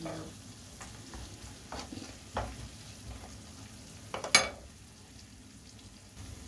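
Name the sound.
garlic frying in a pan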